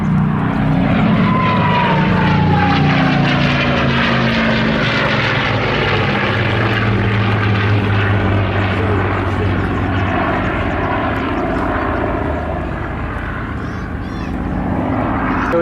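A P-51 Mustang fighter with a Merlin engine flies a display at Southport Airshow 2024, its loud, sustained propeller drone shifting in pitch as it passes, with a commentator talking over it throughout.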